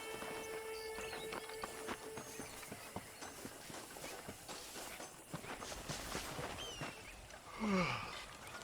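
Horse hooves clip-clopping at a steady riding pace in the Western video game Red Dead Redemption, heard throughout over a busy ambient soundscape with a brief louder swell near the end.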